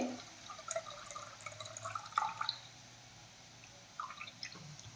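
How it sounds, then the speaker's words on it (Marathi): Water drips and trickles from soaked kurdai (dried wheat fritters) being drained, with scattered small splashes and drops that stay fairly faint and sparse. "आपण कुरडईमधलं पाणी काढून घेऊयात"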